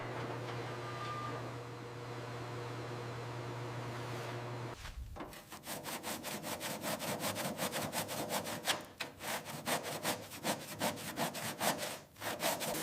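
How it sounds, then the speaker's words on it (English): Wire brushes scrub surface rust off a 1944 Willys MB WWII Jeep, a rapid, rhythmic rasping of strokes close up, following a steady low hum at the start. "Gloved hands appear with wire brushes. Bristles attack surface rust with vigorous scrubbing."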